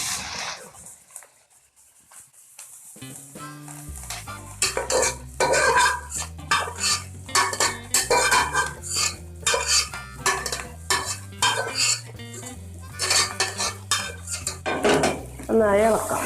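Jackfruit thoran being stirred in a pan on a village kitchen stove, with a spoon scraping and clinking in steady repeated strokes, loud and close, after a brief quiet start.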